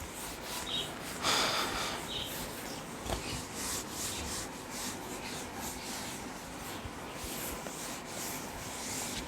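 Steady scrubbing of a duster wiping writing off a classroom board, a continuous close rubbing with a few louder strokes near the start and no talking.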